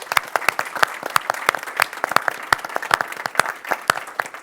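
Audience clapping at a 2022 symposium, sharp distinct hand claps in a fairly uneven rhythm, close and bright, sounding like a modest crowd applauding without talk.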